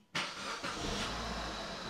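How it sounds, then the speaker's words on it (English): A car engine cranks and catches, then settles into a steady idle, close and fairly quiet, with no talking. "Turn on the car."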